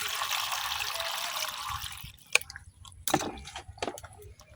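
Cut ash gourd pieces are rinsed clean in water, with a soft, close sloshing wash followed by a few distinct splashes and drips, fairly quiet overall.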